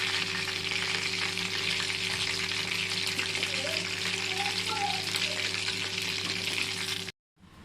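Soya chunks deep frying in hot oil for soya 65, a loud, continuous close sizzle and bubbling that holds steady before cutting off abruptly near the end.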